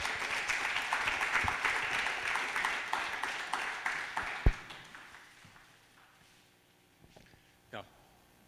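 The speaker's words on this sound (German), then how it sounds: "mit einem riesigen Applaus begrüßen" An audience at a poetry slam with Bochum Bundestag candidates claps to welcome a candidate on stage, with dense applause for about four seconds before dying away into a quiet room with scattered knocks, and a voice speaking over the clapping.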